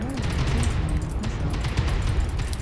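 Rapid autocannon bursts from ultra autocannons on a Kodiak KDK-3 battlemech in MechWarrior Online, a dense continuous stream of booming shots with game effects layered under them.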